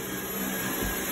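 A vacuum cleaner runs steadily in a home kitchen, a continuous motor whine and rushing air at close range, with no breaks or talk.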